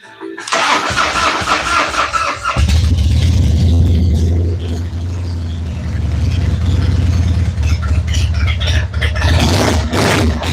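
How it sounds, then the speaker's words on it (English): Old Evo motorcycle engine cranking with the starter and then catching, settling into a loud, steady rumbling idle close by, no talk. "let's see if the old Evo will crank over, make a little noise for us."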